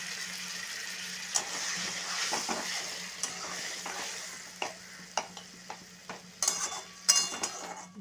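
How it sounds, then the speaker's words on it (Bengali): Bhetki fish bone chorchori cooking in a pan with spices, coriander leaves and a little water: a steady close sizzle with a spoon scraping and stirring in several distinct strokes, a few sharper clinks near the end, no talking. "এরপর আমি কোচানো ধনে পাতাটা দিয়ে আর অল্প করে জল দিয়ে একটুখানি হালকা করে সেদ্ধ করে নেব।"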